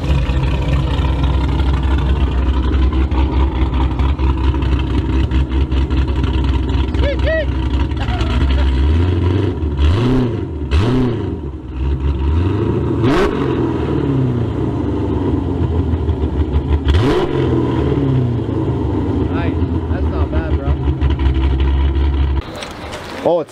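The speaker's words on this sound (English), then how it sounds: "It's a Hellcat OEM catback and American Racing long tube headers." A 392 V8 fitted with a Hellcat OEM catback and American Racing long tube headers rumbles loudly at close range. It idles deep and steady, punctuated by several sharp revving blips, and a voice talks over it.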